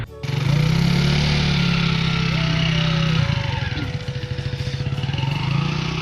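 A motorcycle engine runs steadily nearby, then shifts into a rougher, pulsing putter as it revs and moves off.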